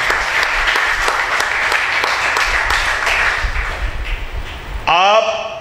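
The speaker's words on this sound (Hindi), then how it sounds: "जोरदार तालियां खुदा के लिए" Loud, dense applause from a church congregation at a Friday prayer service fills the space steadily for about five seconds, with voices mixed in, before a bright musical tone cuts in at the end.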